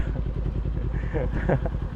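A Kawasaki Ninja 400 KRT motorcycle ridden on a road in Melbourne, its engine giving a steady, close, continuous drone with rising pitch as it accelerates.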